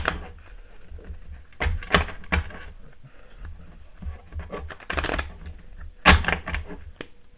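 Cards being shuffled and handled during a psychic card reading, a run of soft papery flicks and riffles with louder bursts near the start and end, close and alone without talk.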